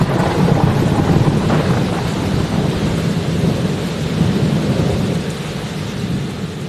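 A thunderstorm with steady heavy rain and rolling thunder, one loud crack early on, then a continuous low rumble and hiss that stays loud throughout.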